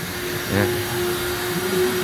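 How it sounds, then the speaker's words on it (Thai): A vacuum cleaner runs at a car wash vacuum station, a loud, steady motor drone with a constant whining tone that holds unchanged throughout and has a slight swell near the start. "นี่ส่วนของแผนกดูดฝุ่นนะครับ"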